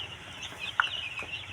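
Chickens in a crowded village coop for free-range native hens cluck faintly, with one brief sharper cluck standing out against steady low barnyard background noise.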